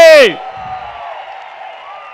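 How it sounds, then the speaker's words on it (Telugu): A large crowd at an outdoor political rally claps and cheers, a sustained wash of applause and noise rising right after a speaker's raised voice cuts off. "అవును అంటే గట్టిగా చప్పట్లు కొట్టి చెప్పండి"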